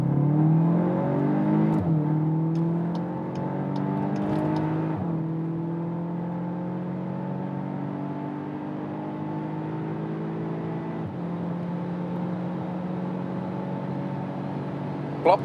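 A VW Arteon R Shooting Brake estate, 320 horsepower, pulls hard on a German Autobahn, its engine droning and rising in pitch through several gear changes with a steady cabin roar, loud and continuous, no one speaking.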